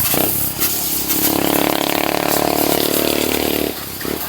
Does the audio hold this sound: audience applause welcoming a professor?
no